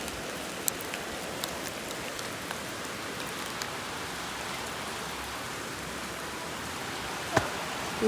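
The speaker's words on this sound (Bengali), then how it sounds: "বৃষ্টি হচ্ছে" Steady rain patters down on surfaces nearby, a soft continuous hiss with a few sharper drips and taps, no voices.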